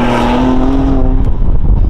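A loud, throaty BMW M2 Competition Remus exhaust with valves open in Sport Plus drones steadily up close, then crackles and pops as the engine note shifts.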